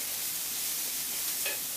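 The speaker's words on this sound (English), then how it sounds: "Keep stirring so we don't burn the onions." Onions sizzle steadily in a pot with paprika and garlic powder while being stirred, a continuous close hiss of frying with a brief utensil scrape near the end.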